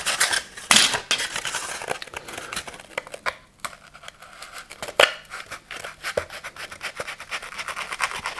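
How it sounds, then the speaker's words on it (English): Scissors snipping through a traced paper or card shape for a fantasy-style miniature building, a close series of irregular crisp cuts and rustling handling sounds, no talking. "Let's cut it out."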